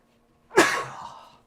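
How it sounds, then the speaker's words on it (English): One sharp, close sneeze from a person with hay fever. It hits suddenly and fades with a breathy tail. "Oh, excuse me while I sneeze."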